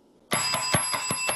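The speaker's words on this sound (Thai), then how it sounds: "เจ้าหน้าที่ประจำห้องก็จะมีการกดกริ่งรัวค่ะ" A session bell at a national engineering academic conference, pressed in rapid succession by room staff to end a presentation's time: about six quick, loud, ringing strikes close by, each leaving a sustained metallic tone, with no talking.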